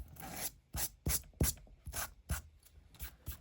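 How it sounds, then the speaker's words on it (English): Quiet scratchy rasping strokes, about ten in a loose rhythm, close by, as sandpaper is rubbed along the edges of paper. "I'm just sanding off the edges"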